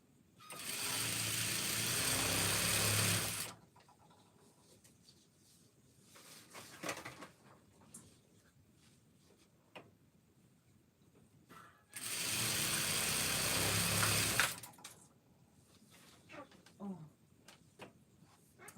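A sewing machine stitching a tutu runs in two loud, steady bursts of fast mechanical whirring a few seconds each, separated by quieter stretches with a voice talking and small handling clicks.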